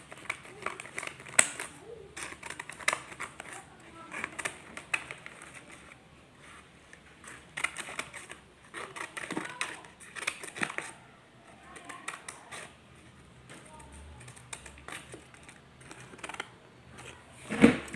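Scissors cut paper during a children's Sunday school craft, giving irregular crisp snips and paper rustles, moderately close, with quieter background sounds between the cuts.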